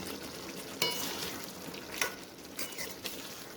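Cauliflower and potato curry is stirred in a pan, a soft continuous sizzle with a few sharp scrapes of the spoon, close and moderately quiet, with no talking.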